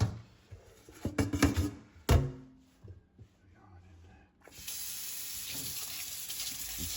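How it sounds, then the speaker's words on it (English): Cold water from a tap starts running about midway and keeps flowing steadily, after a few brief clatters and knocks near the start. "Some lovely cold water just to cool them down quickly."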